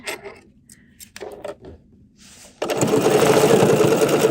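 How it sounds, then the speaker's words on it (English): A BERNINA 990 sewing machine runs steadily while stitching a watermelon quilted mat, a loud continuous whirring that starts suddenly after some quiet handling and small clicks, then holds even to the end. "So what we're going to do is we're going to stitch"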